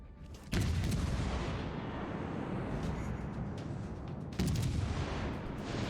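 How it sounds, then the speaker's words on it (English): Guns of the heavy cruiser USS Pensacola firing in a naval video game: two sharp loud blasts a few seconds apart, each followed by a dense, sustained rumbling roar. "We'll fire off some rounds."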